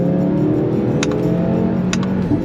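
An Audi RS3 engine drones loudly and steadily up close while accelerating, with a couple of brief clicks over the sustained rumble.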